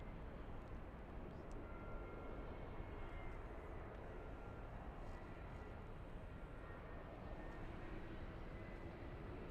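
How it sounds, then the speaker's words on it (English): Embraer E-175 regional jet on final approach at LAX, heard as a continuous broadband engine rumble at steady volume, moderately distant, with no talking. "We have a little E-175 on final approach."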